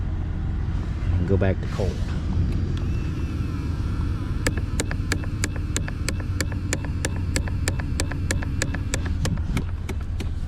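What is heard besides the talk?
faulty Toyota 4Runner heater control valve motor with bad gear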